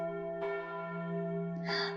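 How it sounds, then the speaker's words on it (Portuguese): Bells ring with sustained, shimmering tones, a bright chime swelling in twice over a steady humming resonance. "Então soaram os sinos dos jacintos."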